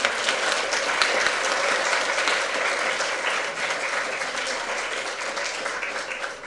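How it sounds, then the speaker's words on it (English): An audience at a presentation bursts into sustained, steady applause that stays loud and dense throughout, tapering only slightly near the end. "I'd really like a round of applause."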